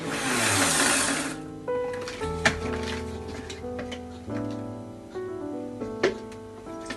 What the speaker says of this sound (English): we take the cashew nuts, put it in the grinder and grind it